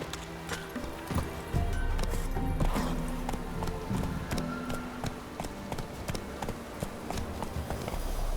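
Roach the horse gallops in The Witcher 3, a steady rhythmic clip-clop of hooves pounding close by over a low ambient bed, continuing evenly for several seconds.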